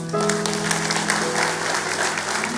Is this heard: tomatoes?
no